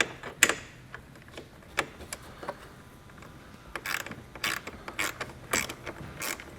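A ratchet loosens bracket bolts on a 2022 Chevrolet Colorado, giving scattered close clicks and creaks, sparse at first and then faster and more regular, with no talking.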